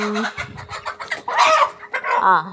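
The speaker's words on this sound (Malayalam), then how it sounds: "കോഴികളാണ് ഇവിടെ ഒച്ചപ്പാട്" Chickens cluck and squawk nearby in short, uneven bursts, one call rising louder in the middle.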